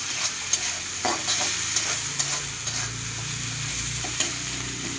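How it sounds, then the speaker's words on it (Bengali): Onions frying in a pan after a pinch of salt, a steady crackling sizzle with scraping stirs throughout, close and fairly loud, no talking. "চলো এবার পেঁয়াজটাকে ভালো করে ভেজে নিয়ে আসছি"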